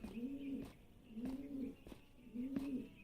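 Birds in the video game Blue Prince cooing like pigeons, three soft, low, throaty coos spaced evenly over a faint ambient background.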